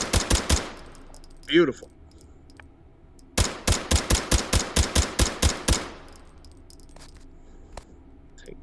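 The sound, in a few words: suppressed Uzi Pro gunfire in video game H3VR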